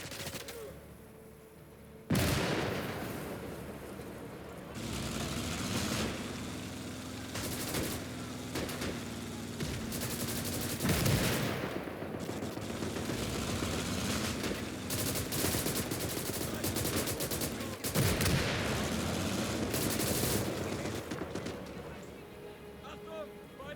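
Sustained enemy gunfire on a World War II battlefield in Call to Arms: Gates of Hell, with rattling machine-gun bursts and heavier shots repeating throughout, loud and continuous, mixed with battle noise and occasional voices.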